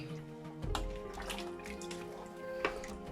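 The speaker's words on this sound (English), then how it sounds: "we're adding around 700 to 800 ml of water" Water splashes and trickles in a steady stream, with a few louder glugs and splashes as 700 to 800 ml pours into a cooking pot of dried okra soup, close by.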